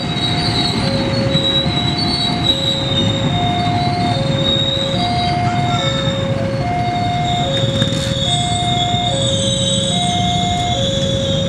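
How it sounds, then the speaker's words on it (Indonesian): A local passenger train pulls into Nagreg Station in Indonesia with a continuous rolling rumble, high wheel squeal and recurring tonal notes, heard close and steady with no talking. "Ada kereta api lokalnya sudah merapat Stasiun Nagreg ya."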